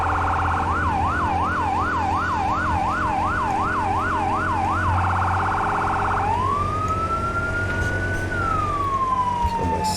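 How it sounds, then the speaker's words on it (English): A fire engine siren in a firefighting simulator game cycles in a rapid, steady yelp, then shifts into a slow rising and falling wail over a constant engine rumble. "Kill my siren."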